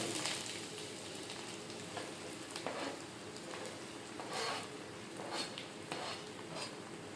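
Three onions frying in hot oil for a soya chunk curry, a dense continuous sizzle with occasional utensil scrapes and clinks, close and moderately loud, no voices.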